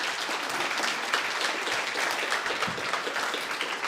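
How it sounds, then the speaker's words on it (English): A crowd at a health and wellbeing launch night claps steadily and warmly, a dense wash of applause that holds at an even level throughout. "Big round of applause for Hubert."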